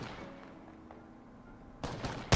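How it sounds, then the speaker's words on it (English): Gunfire in the Apex Legends battle royale shooter: after a quiet stretch, a sudden close burst of rapid shots breaks out near the end, sharp and loud. "these shots are horrible"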